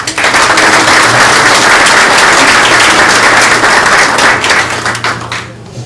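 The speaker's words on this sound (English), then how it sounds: "So just give Bob a round of applause" Sustained applause from a crowd, steady and dense for several seconds before tapering off at the end.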